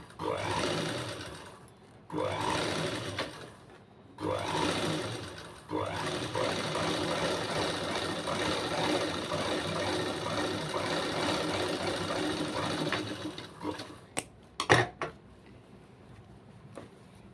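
A sewing machine stitches the neck of a blouse trimmed with small mirrors, running in short bursts and then one long continuous run of rapid needle clatter, close and clear, ending with a few sharp clicks.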